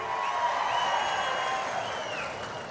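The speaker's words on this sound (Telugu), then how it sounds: "కష్టపడిన వాళ్ళందరికీ గట్టిగా చప్పట్లు కొట్టి అభినందించండి" A crowd applauding at an outdoor public welfare event in Vinjamuru, Udayagiri constituency, with steady sustained clapping spread through the gathering over a faint hum of voices.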